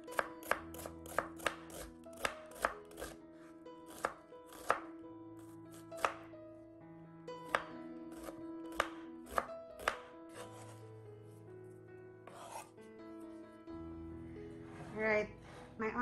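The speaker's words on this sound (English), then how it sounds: "My onion, I want to cut it off, not to grate it." A knife chops onion for a Filipino lumpia filling, giving quick, sharp, close cuts in steady bursts with brief pauses, over soft background music.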